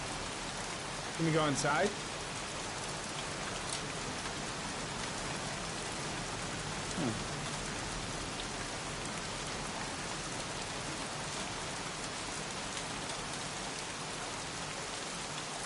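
Heavy, continuous rainfall in the game Heavy Rain, a dense hiss that never lets up, with a voice briefly speaking early on.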